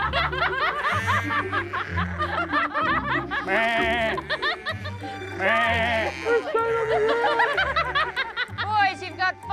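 Sheep bleat repeatedly during a team herding challenge on an open field, loud nearby bleats and cries overlapping with people shouting and calling out over them.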